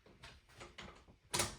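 A child safety lock on an exterior sliding door being unlocked: a few soft mechanical clicks and rattles close by, ending in one sharp, louder clack.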